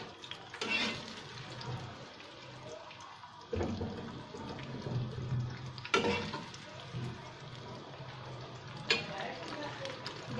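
Onions fry in a pan for a masala with a low, steady sizzle, and occasional stirring scrapes and clatters rise above it. A voice talks faintly underneath in places.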